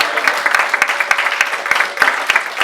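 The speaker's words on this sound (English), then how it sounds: "huge round of applause for our panelists" Audience applause for a community event's panelists, a steady dense patter of many hands clapping at close to moderate distance for a few seconds, with no talk over it.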